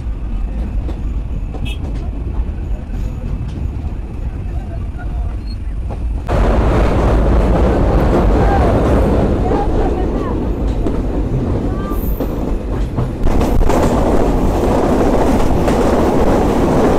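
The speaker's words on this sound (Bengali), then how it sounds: "বৃষ্টির মধ্য দিয়ে আমাদের ট্রেন ছুটে চলছে" The Kapotaksha Express passenger train runs through rain from Rajshahi toward Khulna, its loud continuous rumble and rattle rising sharply midway as rain hiss and track noise swell and stay heavy.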